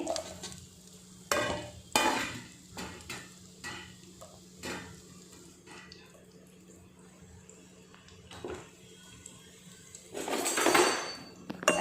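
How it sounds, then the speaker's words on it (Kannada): Onion added to hot ghee in a pan: pots and utensils clatter and scrape in sharp bursts over a low background sizzle, with a louder clattering run near the end, and a voice speaks at times. "ಆಮೇಲೆ ಇದು ಬಿಸಿ ಆದಮೇಲೆ ನೀರುಳ್ಳಿ ಹಾಕ್ತಾಯಿದ್ದೀನಿ."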